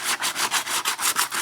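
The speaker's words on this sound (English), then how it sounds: "take a flat piece of sandpaper, put it in your hand, and you take it across the hub surface" Flat sandpaper held in the hand is rubbed by hand across an aluminum wheel hub's mounting surface during a seasonal tire swap, making a steady run of about eight raspy back-and-forth strokes, close and fairly loud, with no talking.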